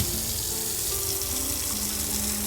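Water runs steadily into a container in the video game Autopsy Simulator, a continuous close faucet-like pour filling the vessel with no talking.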